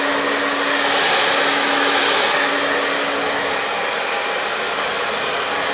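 A hair dryer blasts hair to add texture and movement, a loud, steady, close-up whooshing roar that runs continuously without a break.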